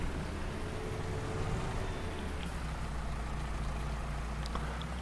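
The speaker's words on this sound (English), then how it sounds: "While it's raining." Soft, continuous rain falling in the Farming Simulator 19 video game, with a low rumbling engine hum from farm machinery underneath and no talk.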